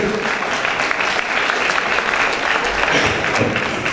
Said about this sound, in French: vous pouvez l'applaudir, elle est très bien